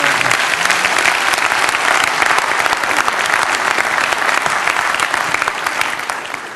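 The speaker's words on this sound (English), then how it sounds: "Give yourself a nice round of applause." A large crowd bursts into loud, continuous applause, a thick roar of clapping hands that stays strong throughout and tapers only slightly near the end.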